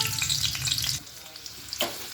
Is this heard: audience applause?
no